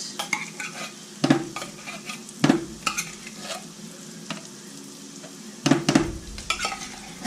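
Cream of mushroom soup from two cans being stirred into a pan of beef stroganoff, with irregular scraping strokes of a utensil against the pan over a soft sizzle, close and moderately loud, no talking.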